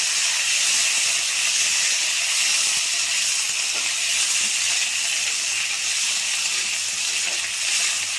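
Potato and squash strips dropped into a pan of frying rui fish give a steady, close hiss of hot oil that holds at an even level throughout.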